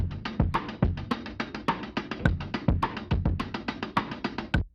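A gritty drum loop distorted by a Camel Crusher saturation plugin, with punchy kicks and crunchy hits in a steady rhythm, dense and saturated throughout.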